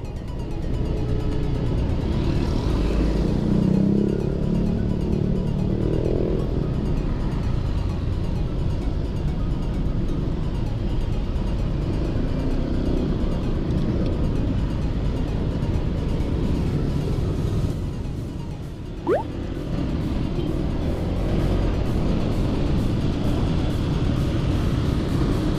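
Honda PCX scooter with red doff finish ridden on a city road, a steady smooth engine drone with road and wind rumble throughout, a brief dip near the end, and no talk.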